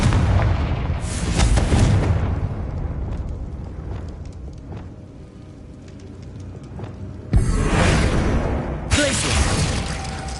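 Fire-spell explosions from the Hogwarts Legacy video game: loud, broad blasts with rumbling decay. A heavy burst comes early, fades into a quieter stretch, then two more sharp detonations arrive near the end.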